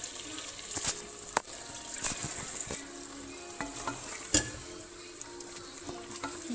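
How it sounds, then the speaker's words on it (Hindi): Spinach curry sizzles softly in a frying pan as a spoon stirs and scrapes it, with occasional sharp clinks against the pan over a steady low hiss. "अभी हम इसको अच्छी तरह मिक्स करेंगे।"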